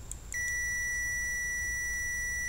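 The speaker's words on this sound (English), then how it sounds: "when I do continuity test, a diode shouldn't give me that beep" A multimeter continuity test on a diode in a TCL 50S455 TV power board: a steady high electronic beep starts after a brief click and holds continuously to the end, loud and close, with faint hum beneath.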